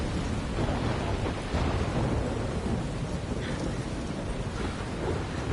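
Thunderstorm in the game Life is Strange: dense, continuous rain and rumbling thunder wash through the whole stretch, loud and broadband, with no voices.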